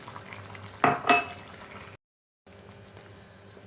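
Cabbage and red lentil curry, just topped up with water and tomato, is stirred in a pot. A short, loud scraping burst sits over a low bubbling background, followed by a brief dead silence and then the quiet simmer again.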